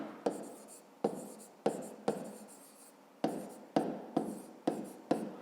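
Pen writing on paper, a series of about nine short scratchy strokes in an irregular rhythm, close and quiet with brief pauses between them.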